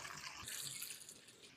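Water poured into a cooking pot of adobo already seasoned with bay leaf, pepper and soy sauce: a steady, close splashing pour that runs the whole moment with no talk over it.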